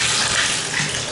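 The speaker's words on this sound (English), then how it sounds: "we have good water pressure and it's draining really well" A shower runs with strong water pressure and drains, a loud, steady hiss and gush of water close by, with no voices.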